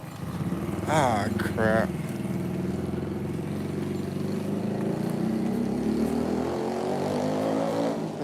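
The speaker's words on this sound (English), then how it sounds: "So these freaking motorcycles out here get so loud and crazy and everything." Loud motorcycles pass outside on a street in the Philippines, a steady engine drone with a slowly rising pitch that holds for the whole stretch, while a man mutters briefly near the start.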